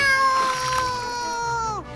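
A cartoon cat in a children's fairy tale about the zodiac race yowls after being pushed into river water, one long falling cry, loud and close, with no talk over it.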